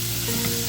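Chopped onion frying with finely chopped garlic in a pan over a medium-low flame, a steady close sizzle with a soft stirring scrape partway through, no voices.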